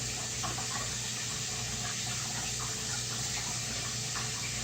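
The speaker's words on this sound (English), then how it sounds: "I have my tank rigged so that I can fill it direct from the sink" Tap water running steadily from a sink faucet through a long extendable hose into a planted aquarium, a continuous broadband rush with a low hum and no talking.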